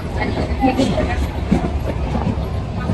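A train rolls along the rails with a steady rumble and rhythmic clacking, voices murmuring faintly underneath.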